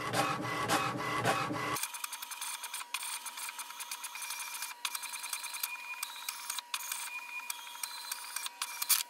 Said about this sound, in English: So here we can see it has printed the printer alignment page.